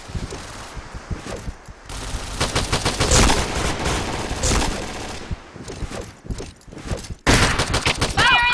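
Dense gunfire in a shooter video game, with rapid overlapping shots and bursts of automatic fire filling the clip, loud and close with brief gaps and a sharp resumption near the end.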